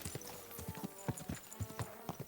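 A horse's hooves clip-clop at a steady riding pace in the Kingdom Come Deliverance 2 video game. The hoofbeats are fairly faint and rhythmic over a soft outdoor background.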